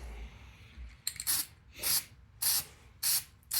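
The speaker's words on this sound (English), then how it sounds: "It sprays kind of heavy because it's meant to paint vehicles." Vehicle spray paint is applied to an M1 helmet in four distinct bursts, each a close, bright hiss lasting about half a second, separated by short quiet pauses.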